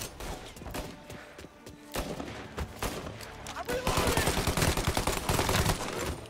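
Gunfire in the Mafia video game: rapid bursts and volleys of shots, intermittent at first, then building into a dense, sustained barrage, with occasional thuds.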